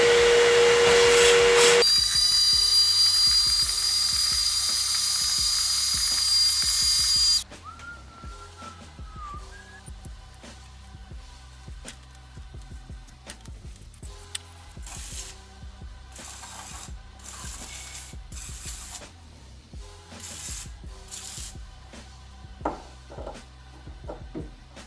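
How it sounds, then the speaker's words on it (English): Engine degreaser is sprayed onto the cylinders of a Cadillac CTS engine in a loud, steady hiss lasting several seconds, followed by quieter mechanical clicks and taps in a workshop. "I sprayed some engine degreaser on the cylinders over there."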